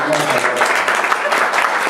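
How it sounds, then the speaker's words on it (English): A room full of people claps for everyone at a reading event, a brief, dense burst of close applause with voices mixed in. "Now we can clap for everyone"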